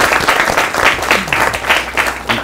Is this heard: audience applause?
yes